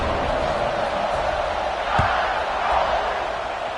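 Stadium crowd noise from the NCAA 26 college football video game at a kickoff after an extra point, a steady loud roar of fans with a brief thump near the middle and no voices standing out.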